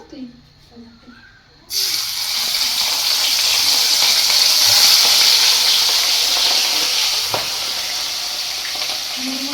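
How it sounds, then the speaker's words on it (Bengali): Fish frying in a pan of hot oil, breaking into a loud, steady hiss after a quiet opening with a voice, then sizzling on evenly with a faint tap near the end. "আর এখানে মাছ ভাজছি আমি"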